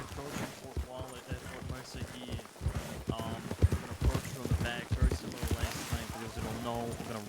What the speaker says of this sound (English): trying not to make any horse hoof sounds